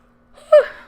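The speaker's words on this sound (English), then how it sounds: "excuse me. I was yawning" A single short yawn, close and fairly loud, rising into a breathy, drawn-out exhale within a quiet moment.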